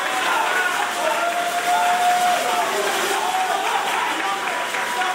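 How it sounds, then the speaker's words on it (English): A wrestling crowd at a Gold Rush event claps and applauds for Royce Isaacs: a dense, continuous roar of clapping and voices from a packed room, with a commentator talking over it. "Gold Rush crowd clapping and applauding for Royce Isaacs"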